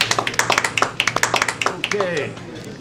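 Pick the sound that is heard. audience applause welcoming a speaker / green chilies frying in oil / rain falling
audience applause welcoming a speaker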